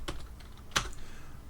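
Keystrokes on a computer keyboard while coding in IntelliJ: a few soft, scattered taps with one sharper, louder key press midway, close and alone with no talk.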